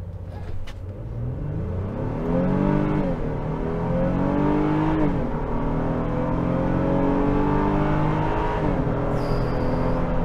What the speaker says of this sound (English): A lot of engine noise.